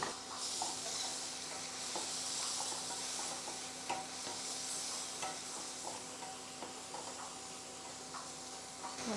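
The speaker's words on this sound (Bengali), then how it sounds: "মশলাটাকে একটু ভেজে নেব।" Spices with cumin powder, salt and a splash of water fry in a pan, a quiet, steady sizzle with occasional light ticks and stirring scrapes.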